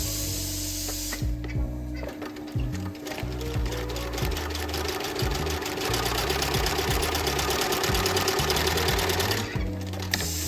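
A Dürkopp Adler heavy-duty long arm zig-zag sewing machine stitching two sail panels together, a close, steady rapid mechanical rattle that starts, stops briefly, then runs fast for several seconds before pausing.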